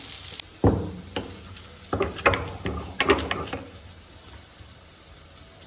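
Big onions fry in oil in a pan, a low steady sizzle broken by several sharp scraping and clattering stir strokes, close up with no talk.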